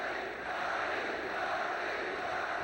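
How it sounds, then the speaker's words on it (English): A large arena crowd at the 1990 NBA Western Conference Finals, Game 6, Portland Trail Blazers at Phoenix Suns, roars and chants a player's name, a dense, steady wall of massed voices throughout. "Crowd chanting Marley's name."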